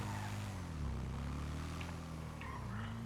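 A car engine revs in the video game GTA 5. A low droning engine tone rises and dips in pitch as the throttle is worked, steady and fairly quiet with no voices.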